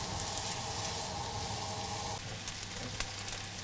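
Diced onions sweating in a pan for a minced-meat börek filling, giving a steady, close, even sizzle and crackle with faint stirring scrapes, no voices.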